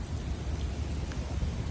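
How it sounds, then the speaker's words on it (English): Hard rain pours during an outdoor dog walk, a steady dense hiss of downpour close and continuous with no talk over it. "And now it's raining pretty hard."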